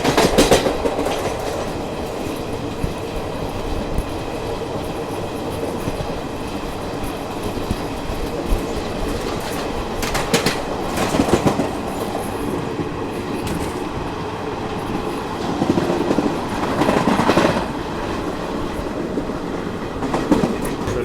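The Garib Rath express from Chennai to Delhi overtakes the Tirupati–Adilabad Krishna Express. A continuous loud rail rumble carries clickety-clack wheel beats and occasional louder clattering surges, heard close up from on board without talk.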